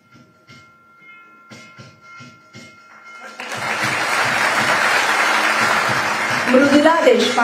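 Applause at an appointment letter ceremony, a loud sustained burst of clapping from a large crowd that starts after a few seconds of sparse claps and speech and continues to the end.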